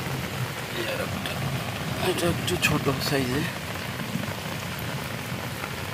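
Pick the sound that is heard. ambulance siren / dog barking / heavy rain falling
heavy rain falling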